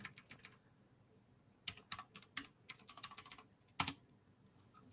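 Quick bursts of typing on a computer keyboard, crisp close key clicks in irregular runs separated by short pauses, with one sharper louder keystroke near the end.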